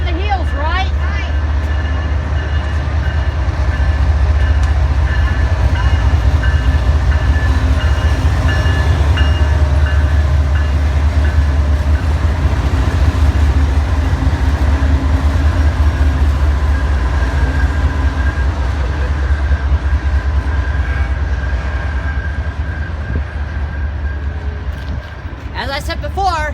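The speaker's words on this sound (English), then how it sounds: "Looks like another auto train." An auto rack freight train rolls past in western New York, a loud, steady rumble of rail cars with rhythmic wheel clatter lasting the whole stretch, with people talking now and then over it.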